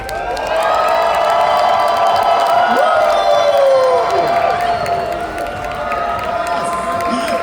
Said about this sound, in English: Let's give it a big cheer.